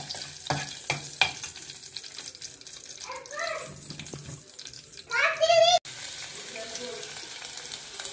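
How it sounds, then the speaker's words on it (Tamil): Whole cardamom, cloves, cinnamon and a bay leaf fry in hot oil for chana masala, giving close, uneven sizzling crackles and stirring clatter, with a brief louder burst of spitting near the end. "அந்த ஏலக்காய், கிராம்பு, பட்டை, பிரிஞ்சி இலை எல்லாத்தையும் போட்டு கொஞ்சம் அந்த எண்ணெய் இது பண்ணிக்கணும்"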